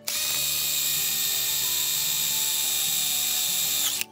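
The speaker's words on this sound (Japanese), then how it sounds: "こちらのインパクトドライバーでも全然はいできます、使えますね。" An impact driver spins a wire brush attachment at a steady high whine for about four seconds, loud and close, starting and stopping abruptly, with no talk.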